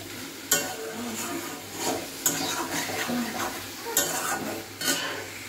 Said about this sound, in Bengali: এই যে মশলা কষাচ্ছি, মশলা কষানো হয়ে গেছে।